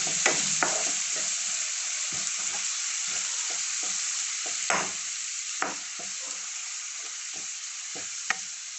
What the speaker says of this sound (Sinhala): ඊට පස්සේ මම කලින් සීසන් කරගත්ත දැල්ලෝ මිශ්‍රණය මේකට දාලා හොඳින් ටෙම්පරාදු කර ගන්න ඕනේ.